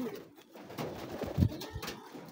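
Pigeons on a pigeon farm, with soft low cooing and a few brief calls over faint background noise, fairly close and quiet, with no speech.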